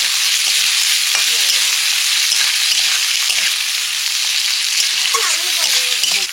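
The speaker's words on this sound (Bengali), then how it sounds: "ক্যাপসিকাম আর পেঁয়াজ একদম হালকা ভেজে নিয়েছি।" Capsicum and onion frying in a pan with ginger, garlic and green chili, a steady close sizzle with intermittent scraping stir strokes throughout, no talk.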